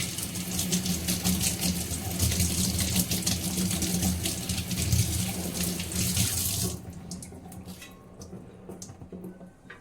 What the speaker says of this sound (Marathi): मी झाडांची पानं वॉश करून येते.